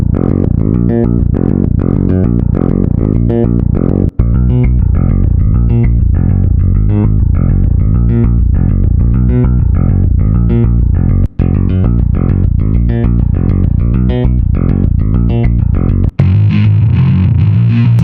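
A looping bass line from Toontrack EZbass presets run through delay, chorus and reverb, punchy repeating notes in a steady rhythm, loud and alone, with brief gaps as presets change.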